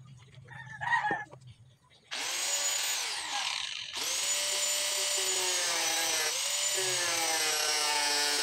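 A handheld grinder cuts material while an amplifier's Bluetooth/FM/USB board is being fitted, letting out a loud, high whine that starts abruptly, dips, then restarts and runs steadily. Softer background sounds come just before it.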